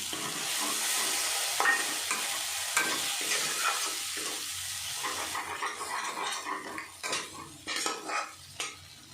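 Finely chopped tomato frying in a pan with a little water, a steady sizzle under repeated stirring and scraping of a utensil against the pan, growing choppier and more clattery toward the end.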